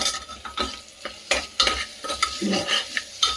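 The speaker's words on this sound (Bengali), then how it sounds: "এই মাংসটাকে এখন খুব ভালো করে কষিয়ে নিতে হবে" Minced chicken keema is stirred and fried in a pan, with irregular scraping and clinking strokes of a utensil over a soft sizzle, close and moderately loud, no voices.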